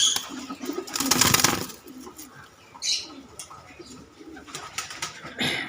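Mayurpankhi pigeons coo softly at close range in a series of low, rolling calls, with brief bursts of wing flapping and rustling between them.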